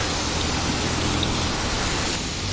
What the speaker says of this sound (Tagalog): Walang tigil ang ulan eh.